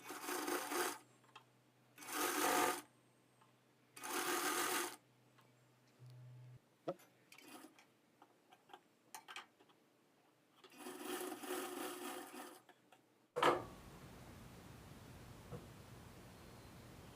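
A sewing machine stitches the folded hem of a blouse in several short, rhythmic bursts separated by pauses, followed by a longer run near the end, with no talking.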